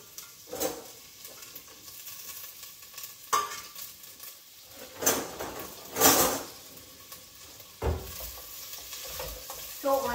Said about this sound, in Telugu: ఆనియన్స్ వేసి ఫ్రై చేస్తాం